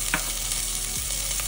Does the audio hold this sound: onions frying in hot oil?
yes